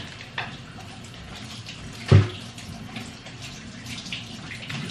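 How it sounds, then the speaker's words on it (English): Warm water runs from a kitchen tap while sweet potatoes are washed, a steady hissing stream with one brief splash or clunk partway through and no talk. "Warm water."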